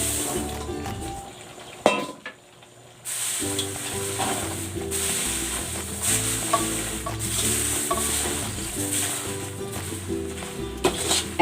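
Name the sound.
laing, taro leaves cooking in coconut milk, being stirred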